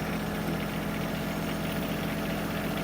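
A tractor engine idles with a steady, even low throb and rattling vibration, close and constant, with no talk.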